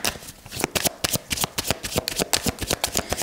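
Tarot cards are shuffled by hand in a reading on love and relationships, making a rapid, rhythmic riffle of crisp flicks and slaps up close. The shuffling runs continuously with no talking over it.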